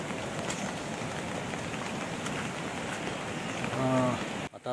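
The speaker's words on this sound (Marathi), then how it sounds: "पाऊस थोडा थोडा सुरू झाला आहे." Light monsoon rain falls steadily through a forest path in the Konkan, a soft even hiss throughout, with a brief tonal call near the end before a short dip.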